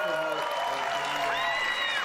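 Audience applause at a Ubisoft E3 presentation, a dense wash of clapping with cheers over it and a voice talking through it.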